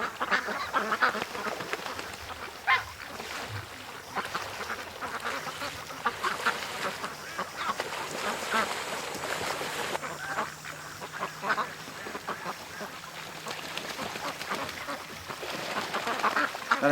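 Ducks quacking repeatedly, a busy chorus of overlapping calls with some honking mixed in, fairly close and continuous.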